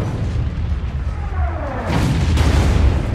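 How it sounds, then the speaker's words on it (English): A loud artillery strike in the shooter Call of Duty: Ghosts, with heavy rumbling booms that swell into a dense, sustained barrage of blasts in the second half. "you can call in an artillery strike that decimates your enemy"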